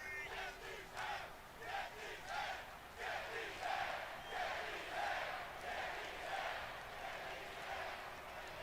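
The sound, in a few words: crowd cheering before a wrestling match in video game WWE 2K24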